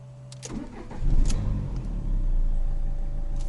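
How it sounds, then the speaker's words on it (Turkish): A Renault Symbol 1.5 dCi diesel sedan cranks and fires up, a brief whirring crank giving way to a steady, loud, close diesel idle rattle that settles and holds. "her zaman sizlere göstermeyi istediğim şu motor sesini dinletmek istiyorum. Çalıştırıyorum."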